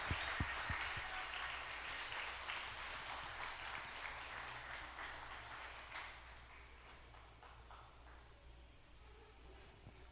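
A church congregation applauds to welcome a house prophet during a service, sustained broadband clapping filling the room for the full stretch, steady then easing slightly toward the end.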